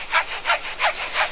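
A lyrebird mimics a hand saw cutting wood, producing four evenly spaced rasping strokes in a steady back-and-forth rhythm, close and clear with no voices.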